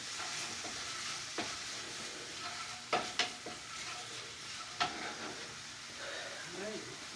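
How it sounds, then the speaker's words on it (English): A spoon stirs food in a frying pan with a quiet, steady sizzle, broken by a few sharp scraping knocks against the pan partway through. "I'll give it a stir."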